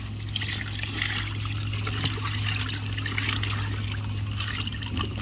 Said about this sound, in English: What I do, I put a little bit of the water first.